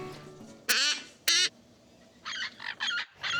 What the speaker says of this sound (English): These are two scarlet macaw babies.